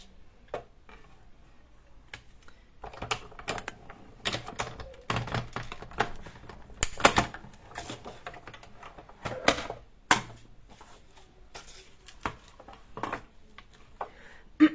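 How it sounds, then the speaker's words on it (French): Small scissors snip through little glitter sequins for a craft mug, giving a run of light, irregular clicks and snips at close range with quiet pauses between them and no voices. "je vais aussi vite fait découper mes petites paillettes"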